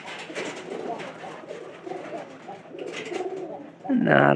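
A pair of pigeons coo close by in low, throaty rolling calls, with a voice speaking alongside and a louder burst of cooing at the end.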